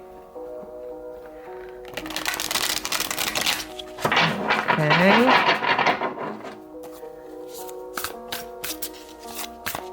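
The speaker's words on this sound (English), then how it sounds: "So let's just give it another riffle shuffle thingy." New, stiff tarot cards being riffle shuffled, a rapid fluttering burst of card edges followed by a brief cascading riffle and a few sharp taps, close up, with a short spoken word.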